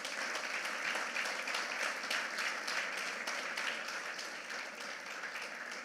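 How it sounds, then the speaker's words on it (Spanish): Church congregation applauding the Lord during a Spanish-language Christian sermon on the resurrection, steady dense clapping that holds for the whole stretch at an even level with no talk over it. "Denle un aplauso al Señor."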